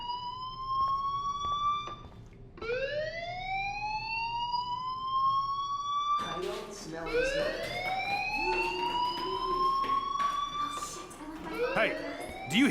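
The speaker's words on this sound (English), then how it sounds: "do you hear that fire alarm?" A fire alarm wails in the video game Life Is Strange, rising siren sweeps repeating loudly with a gap near the start, then returning and cycling on through the rest.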